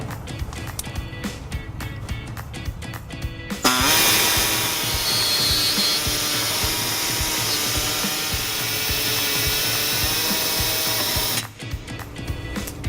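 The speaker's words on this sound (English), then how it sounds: "to make a small notch in our access hole, I'm going to be using an air saw" An air saw cuts a small notch in the metal access hole of a 2014 Ford Escape for trailer hitch installation, a loud continuous high-pitched buzz for about eight seconds, flanked by quieter clattering handling noise.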